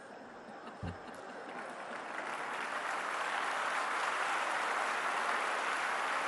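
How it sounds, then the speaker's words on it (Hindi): Audience clapping at a happiness festival speech, starting as scattered claps after a single thump and swelling into full, steady applause that fills the rest of the clip. "आपने किसके लिए ताली बजाई?"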